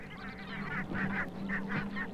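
Barnacle geese (Branta leucopsis) give a series of repeated, nasal honking calls at a steady pace, fairly close and clear over a low background hum.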